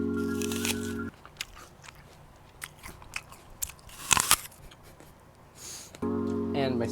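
Someone bites into a crunchy snack after lunch, giving a few brittle crunches and chewing crackles, one loud crunch standing out mid-clip, with brief voice sounds at the start and end.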